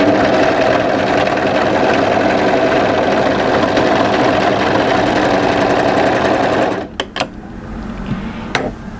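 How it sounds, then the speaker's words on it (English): Sewing machine stitching a short seam on a draped midi dress, a loud steady whirring motor with rapid needle rhythm, then stopping with a few sharp clicks and handling noises. "we're going to sew just that short distance through to that notch in the center where the fold is"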